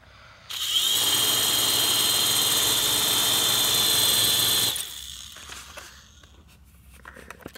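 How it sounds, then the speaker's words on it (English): A small electric motor of a fire-melted RC helicopter whirs at a steady high-pitched whine for about four seconds, starting and stopping abruptly, close and loud with no talking. "The melted helicopter still works."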